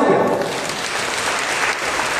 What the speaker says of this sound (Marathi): जोरदार टाळ्या वाजूया